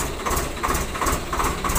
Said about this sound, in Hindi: यो या भाई पिंटू है, यो चलाओ ट्रैक्टर है।